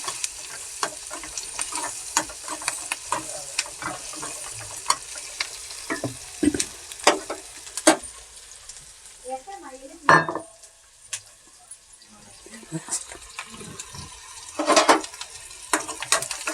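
Onions, curry leaves and green chillies fry in a pan with a steady low sizzle, broken by frequent sharp clinks and scrapes of a spoon stirring against the metal, up close.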